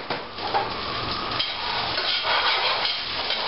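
Sliced medium shallots sauté in a pan of high-heat olive oil with a steady, close sizzle and hiss. Faint knocks and pan contact sound under it, and no one talks.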